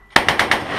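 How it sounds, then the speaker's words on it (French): An M30 heavy machine gun mounted on a jeep fires at a military camp range in Vietnam: a rapid burst of four loud, sharp shots in under a second, very close and ringing. "On va tirer à une espèce de machine gun, un M30, la grosse arme de barbare"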